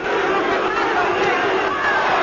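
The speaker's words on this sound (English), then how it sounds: "The big crowd calling for a knockout" A big crowd at a 1995 professional boxing match between Kostya Tszyu and Roger Mayweather roars steadily and loudly, a dense wash of shouting and chatter that never lets up.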